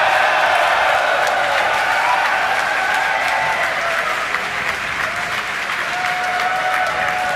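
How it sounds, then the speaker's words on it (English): Colleagues gathered outside mission control at SpaceX in Hawthorne, California applaud and cheer during a Starship payload deployment, a dense, sustained wash of clapping that stays loud throughout. "It looks like we got a crowd at our Hawthorne, California location."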